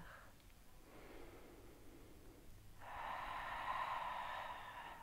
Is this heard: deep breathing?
yes